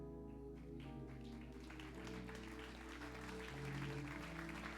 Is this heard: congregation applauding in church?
yes